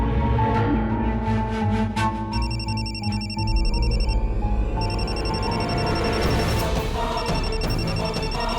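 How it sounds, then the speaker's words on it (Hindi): A mobile phone rings in a home in repeated bright electronic tone bursts, steady and fairly loud across the whole stretch, with a faint ticking underneath and no voices. "तुम्हारा फोन बज रहा है।"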